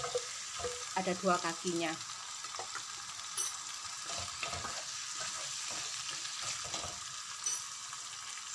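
Chicken pieces sizzle in hot, fragrant spice paste in a pan, a steady frying hiss under stirring clatter near the start, with someone speaking briefly.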